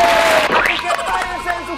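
Loud studio audience crowd noise on a Panamanian entertainment talk show, a dense roar of cheering and clapping with a host's voice and a whistle-like tone cutting through at the start.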